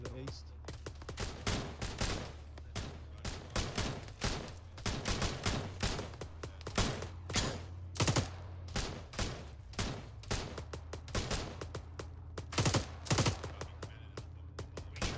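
Rapid, sustained gunfire from the video game Arma 3, dense bursts and single shots crackling almost continuously at a moderate distance, with speech mixed in.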